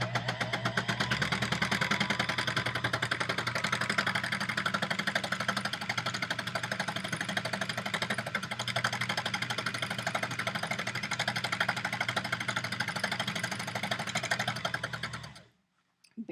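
An embellishing machine runs over handmade or man-made fabric with a rapid, even needle-punching chatter and motor hum, steady and close for about fifteen seconds before stopping abruptly.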